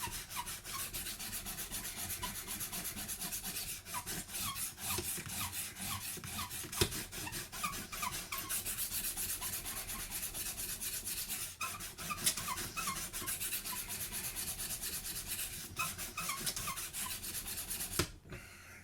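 A Spyderco Birch Chubby knife blade rubbed against a 1500 grit diamond stone, a continuous close scraping and rasping of repeated strokes, fairly quiet, ending abruptly.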